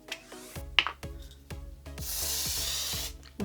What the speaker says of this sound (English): It had a really good spray radius and it has a really misty feeling to it.